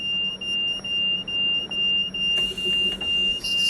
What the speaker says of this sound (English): beeping like crazy through my controller because it was hurting my ear